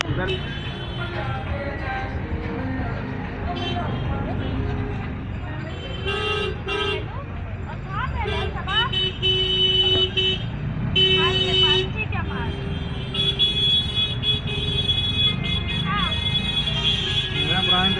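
Busy Delhi street traffic, like an old-city road, with repeated car horns honking over a steady roadway rumble and passing vehicles, and people talking nearby throughout.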